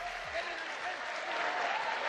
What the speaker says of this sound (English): the crowd there appreciating the two fighters who are into the final round of this bout